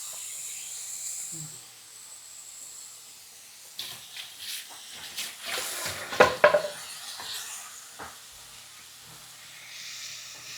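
Tomatoes cook down with ginger garlic paste in a pan for Chettinad-style prawn thokku. There is a soft, continuous sizzle and hiss, and a few louder stirring scrapes and clinks build up in the middle before it settles again.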